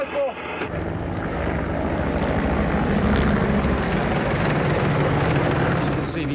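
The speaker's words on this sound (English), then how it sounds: "As you can see, the attack helicopter's turned up." An attack helicopter in a combat zone in Afghanistan roars overhead, a loud, steady rotor and engine drone that fills the whole stretch without a break.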